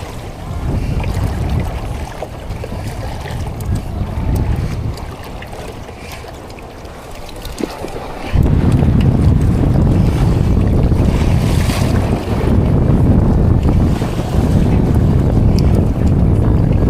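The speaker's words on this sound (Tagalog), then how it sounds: "Laki ang alon dito mga amigo." Big sea waves slap and rush around a small fishing boat during handline fishing, a loud, continuous wash of water and wind that swells louder partway through; no talking.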